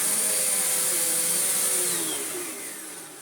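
Bagged HEPA vacuum cleaner running indoors, a loud steady whir with a high whine that eases slightly toward the end, heard close and alone.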